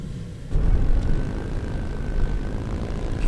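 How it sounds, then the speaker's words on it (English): A camera drone flies low over Southern Utah landscape and comes in to land, its steady buzzing motor drone loud and continuous after a soft start, with a faint whine running through it and no talking. "So I got the drone back down"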